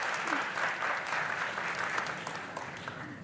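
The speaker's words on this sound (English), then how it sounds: "Clap for me." An audience claps steadily at a quiz competition gathering, a moderately loud, even patter of many hands that tapers slightly toward the end, with faint voices underneath.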